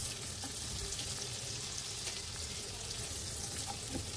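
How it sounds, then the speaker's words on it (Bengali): Chopped onion and garlic fry in soybean oil in a pan for pasta, giving a steady, even sizzle with occasional stirring noises, close and continuous with no talking. "এবার পেঁয়াজ ও রসুন কুচিটাকে একটু ভেজে নিব"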